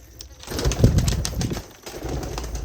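Pigeons coo in low, throaty murmurs close by, a soft, continuous burbling with a brief flutter of movement.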